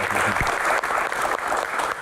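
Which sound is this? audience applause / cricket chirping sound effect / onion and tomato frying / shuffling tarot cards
audience applause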